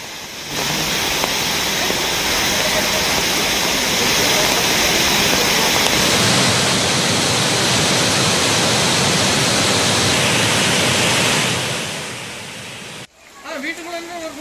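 Surplus water released from a dam rushes as floodwater, a loud, dense, continuous roar that holds steady for several seconds before cutting off abruptly near the end.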